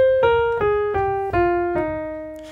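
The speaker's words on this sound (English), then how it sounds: "a regular mixolydian scale going down" A single melodic instrument plays a descending mixolydian scale in a jazz context, with five or six evenly spaced notes stepping downward and the last one sustained, close and clear with no talking.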